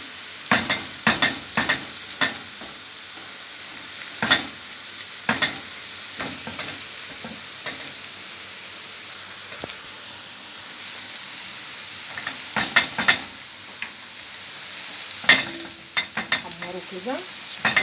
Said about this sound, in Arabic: حمر البطاطس تقطعيها مكعبات وتحمريها، والبصل برضو نفس